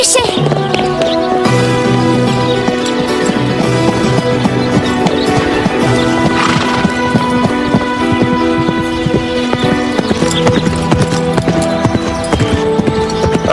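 Horse hooves clip-clop in an animated riding-school show, a rhythmic run of hoofbeats set against sustained background music throughout.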